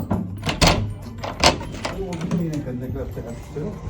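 A door being opened, two sharp clunks stand out near the start amid ongoing conversation and a busy indoor background.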